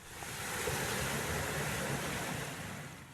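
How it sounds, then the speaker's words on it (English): Floodwater from the River Cree in Newton Stewart, Scotland, rushing around parked cars in a low-lying street, a steady loud broadband wash of flowing water with wind noise, continuous and unbroken throughout. "Cars hadn't been moved as the floodwaters encircled them."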